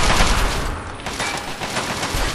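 Gunfire in a Fallout game: a loud, dense burst of rapid shots and crackling impacts filling the whole moment, close and harsh, with no talking.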